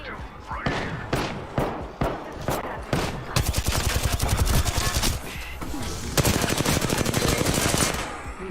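Rapid automatic gunfire from Apex Legends comes in short bursts, then in longer sustained rattling volleys, loud and close, with a voice speaking briefly over it.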